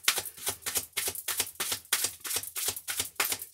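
Tarot cards are shuffled on a table in a rapid, regular run of short riffling bursts, close and moderately loud, with no talking.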